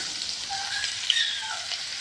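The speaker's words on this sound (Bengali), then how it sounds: "আলু সব একসাথে ভেজে নেব।" Onion, chili and potatoes frying together in a pan give a steady, close hiss and crackle, with small pops breaking through a continuous sizzle.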